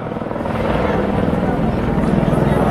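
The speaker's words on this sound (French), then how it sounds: "le looping s'il vous plaît, le looping en hélicoptère" A helicopter performing a loop at an air show thrums steadily, loud and close, its low pulsing rotor drone continuous throughout, with faint crowd murmur beneath.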